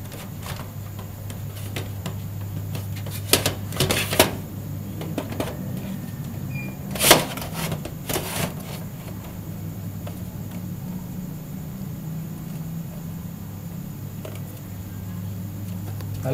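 A DVD-ROM drive slides into the front bay of a Core2Duo desktop PC case, giving a few short scraping and knocking bursts over a steady low room hum, with long quiet stretches between them.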